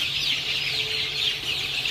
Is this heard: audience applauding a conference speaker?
no